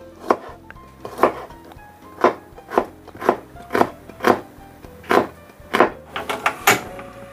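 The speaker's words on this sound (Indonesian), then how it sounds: "Hanya 2 macam saja, bawang merah dan bawang putih. Kedua bahan ini saya iris tipis seperti ini ya." A knife thinly slicing shallots and garlic on a board, giving about a dozen crisp, close cuts in an uneven rhythm that quickens toward the end, with no talking.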